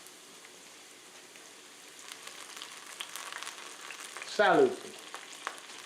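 Red onion and garlic frying in extra virgin olive oil, a soft steady crackle and hiss that brightens partway through, with a brief louder clatter near the end.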